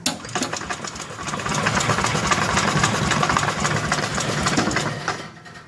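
A 1964 Cushman Scotsman golf cart engine is turned over by its starter-generator and runs with a fast, steady mechanical chatter and ticking, fairly loud and close, without talk.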